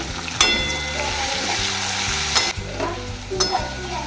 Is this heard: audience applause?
no